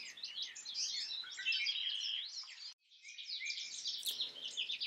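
Goldfinches in spring give rapid, high chittering and squeaking calls in flight, two dense bursts of twittering with a brief gap between them, fairly faint against a quiet background.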